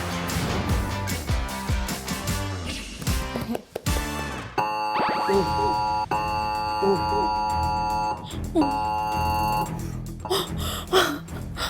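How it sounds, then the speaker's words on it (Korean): A loud, harsh emergency disaster alert alarm on a phone blares in steady sustained tones, shifting pattern partway through, with music-like sounds before it begins. "이 알람은 언제 들어도 가슴이 철렁 내려앉지 않나요?"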